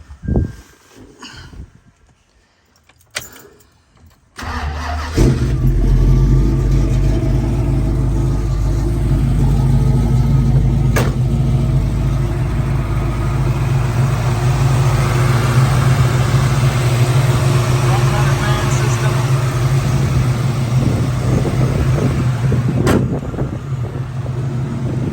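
A 1968 Ford Mustang fastback with a restomod 351 Windsor V8 starts up after a few seconds of quiet, then runs at a steady loud rumbling idle close by, without any talk.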